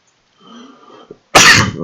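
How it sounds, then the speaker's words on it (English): One person coughs close by, a short muffled throat sound followed by a single loud, harsh cough. "Apologies, I keep coughing."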